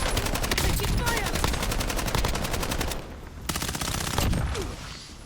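Gunfire in Call of Duty Warzone: rapid, loud automatic bursts rattling almost continuously, pausing briefly around the middle before resuming, with faint voice cues mixed in.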